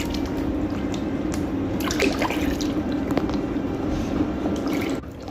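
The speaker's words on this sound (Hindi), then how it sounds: "तो इसी पानी से आप अभी इस लेग को वॉश कर दीजिए" Water splashes and trickles as a foot is washed in a foot spa tub during a pedicure, a steady close sloshing with scattered drips throughout.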